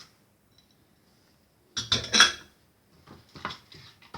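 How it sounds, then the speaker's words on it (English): Melted Cadbury chocolate stirred with almonds, green sultanas and pistachios in a bowl, heard as a short burst of spoon scraping and clinking against the dish, then softer intermittent stirring after a quiet start. "Mix it properly."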